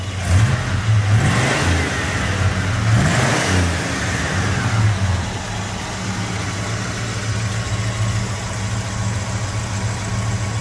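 A 1972 Pontiac GTO Judge engine revs hard a few times, rising and falling in loud bursts, then settles back into a rumbling idle.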